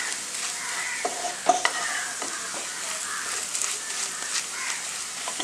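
Potato mixture sizzling and frying in a pan while being mashed and stirred with a spoon, soft continuous crackle with scattered scraping knocks, close and moderately quiet.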